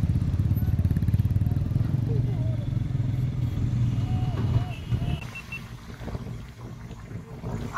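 A motorcycle rides along a road on a trip from Kolkata to Bagda beach in Odisha, its engine a continuous low rumble with wind noise that eases off midway, with people talking over it.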